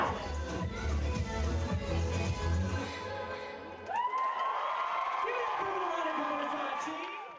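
A crowd at a drag show claps, screams and cheers, a dense roar of applause and whoops that gives way to higher shrieking and yelling voices, loud and sustained throughout.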